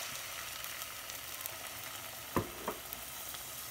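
Sauce of fresh minced garlic, onion and ketchup for jerk chicken wings sizzling steadily in a pan, a constant hiss broken by two brief knocks of a stirring utensil.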